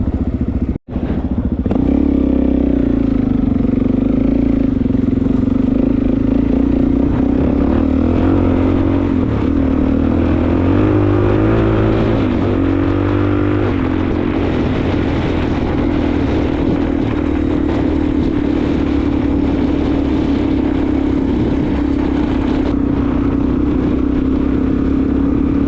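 A Suzuki DRZ400S motorcycle engine drones loud and close on a flat-track style dirt area, starting up after a sharp click and holding a steady throbbing hum with brief revs rising in pitch.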